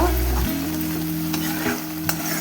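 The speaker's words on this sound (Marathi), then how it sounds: "आपल्याला परतून परतून कोरडं करायचं आहे थोडंसं" Fresh coconut masala is stir-fried with drumsticks in a pan over high heat, producing a steady loud sizzle with continuous scraping and stirring throughout.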